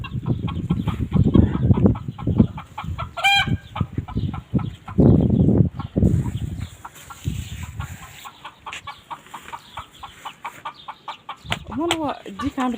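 A rooster clucks repeatedly in a rural yard, sharp close calls and squawks coming in bursts, while people talk loudly around it for much of the time.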